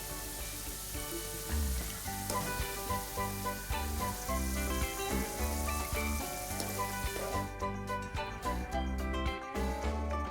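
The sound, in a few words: bite-sized potato pieces frying in oil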